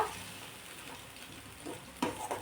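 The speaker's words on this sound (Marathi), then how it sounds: "आता हा मसाला चांगला या तेलामध्ये परतून घ्यायचा आहे तेल फुटेपर्यंत" Masala paste frying in oil in a pan for an abai bean curry gives a steady, soft sizzle throughout, with a couple of brief louder crackles near the end.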